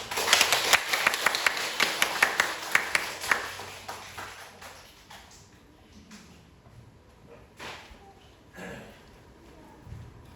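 A church congregation gives a burst of applause, with sharp claps over the first few seconds that thin out and fade, leaving a few scattered claps in a quieter room.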